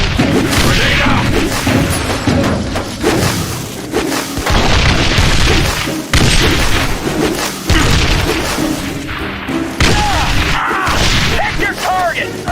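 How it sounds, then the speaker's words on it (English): Grenade blasts and booming impacts in The Bureau: XCOM Declassified on PlayStation 3, loud and repeated amid continuous combat noise, with shouted voices over the fighting. "Grenade out!"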